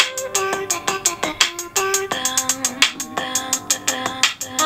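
Recorded pop song plays loud and clear, with a punchy rhythmic beat of sharp hits and a bright repeating synth and vocal melody, no talking over it.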